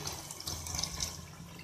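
Water is poured into a cooker pot of spiced dal: a short, fairly quiet, steady splashing stream with no speech.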